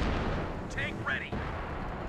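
Flanking gunfire in Company of Heroes 2 rumbles as a dense, continuous battle din of distant shots and booms, with short sharp cracks and whistling tones layered over it and a brief voice shouting midway.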